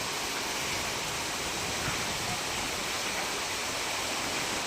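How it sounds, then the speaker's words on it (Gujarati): Heavy monsoon downpour with strong wind in Kalavad, Jamnagar district, Gujarat, during a thunderstorm, heard as a steady, dense wash of rain noise throughout with no distinct thunder claps. "ધોધમાર વરસાદ વરસ્યો અને ધોધમાર વરસાદની સાથે પવનની ગતિ પણ તેજ થયેલી જોવા મળી"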